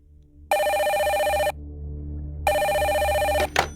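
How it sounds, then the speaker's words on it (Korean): A telephone bell rings in two long, loud electronic bursts separated by a pause, with a brief click at the end, heard alone with no talking. "그리고 그때 김상규의 방으로 전화가 걸려왔다."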